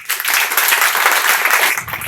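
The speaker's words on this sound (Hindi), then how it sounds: "तो इस इनकम के लिए भी जोरदार ताली होना" An audience at an income-plan presentation bursts into loud, sustained applause, dense clapping filling the whole stretch without a break.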